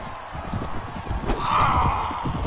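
A horse's hooves clip-clop steadily at close range in the medieval combat video game Mount & Blade: Warband, a brief continuous stretch with no talk over it.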